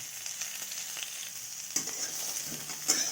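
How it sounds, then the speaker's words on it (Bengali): Chopped green chillies dropped into hot ghee with fried nuts, a bright crackling sizzle with clattering stirs and spoon knocks near the end, close and moderately quiet, no voices. "ঘিয়ের মধ্যে কয়েকটা লঙ্কা কুচি দিয়ে দিলাম।"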